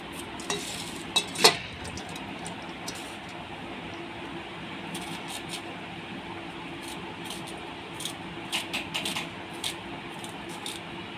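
Chopped onion frying in a pan and being stirred for a thin puti fish curry with green banana and papaya: a steady close sizzle with a few sharp utensil scrapes and clinks early on and again near the end, no voices.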